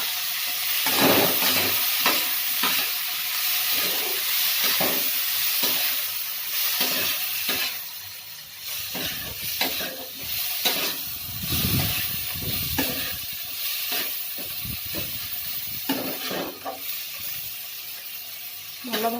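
Onion and tomato fry in a pan for egg soya badi, a close, hissing sizzle broken by repeated stirring scrapes and bursts of steam, steady throughout.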